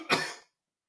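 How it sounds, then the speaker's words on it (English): A single short cough, close and fairly quiet, cutting off abruptly into silence. "while you're getting your cough on"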